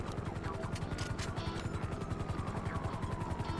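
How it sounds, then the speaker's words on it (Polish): A police helicopter arrives in Grand Theft Auto V, its rotor giving a fast, steady chopping pulse close by. A few sharp bangs of gunfire cut in early on. "śmigłowiec już jest"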